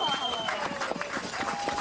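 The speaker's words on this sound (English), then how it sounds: "Huge round of applause for Donald" A studio audience at a celebrity winter-sports show applauds a contestant with a brief, steady burst of clapping under music, fairly distant and muted.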